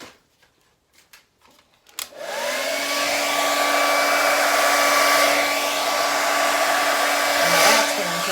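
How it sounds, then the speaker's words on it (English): A hair dryer roars on after a few faint clicks and handling noises and then blows steadily and loudly at close range while drying fluid art paint, with a slight whine throughout. "let me get my dryer again"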